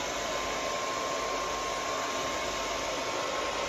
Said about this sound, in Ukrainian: Для тестового буду використовувати фен Philips, заявлено 2100 Вт